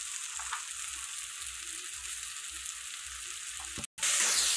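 Spices are stirred into guar (cluster bean) masala gravy frying in a pan, giving a steady close sizzle with soft scraping strokes that cuts out briefly near the end before returning louder.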